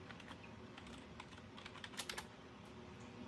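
Computer keyboard typing carries on steadily for several seconds at close range, with bursts of rapid clicking and a few louder keystrokes; no voices are heard.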